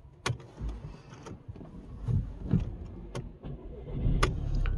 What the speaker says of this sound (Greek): Λοιπόν, τώρα θα βάλουμε μπρος το αυτοκίνητο.